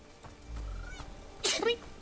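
A giant character sneezes in the video game Bramble: The Mountain King, a sharp loud burst with a trailing spray after a quieter low rumble, set against faint background game sound.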